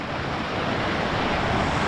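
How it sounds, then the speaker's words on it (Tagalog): River rapids at a forest stream during heavy rain rush as a steady, broadband roar, loud and close with no pauses, briefly and without voices. "Ganda ng rapids oh."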